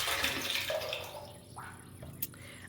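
Water running into a 1,200 gallon water tank, a steady faint wash with occasional drips and gurgles, no talk over it.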